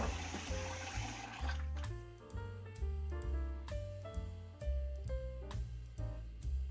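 Water pours and gushes onto rice in a container for a couple of seconds, then gives way to a melodic backing track of steady notes.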